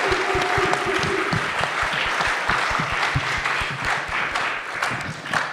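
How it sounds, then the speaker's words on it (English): A church congregation at a family talent night breaks into a round of applause, many hands clapping at close range with distinct sharp claps standing out, a faint tone briefly underneath. "Everybody give yourselves a round of applause."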